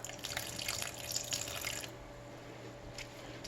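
Half a cup of milk pours into mashed potatoes in a soft, faint splashing stream that stops partway through, leaving quiet room tone with small drips.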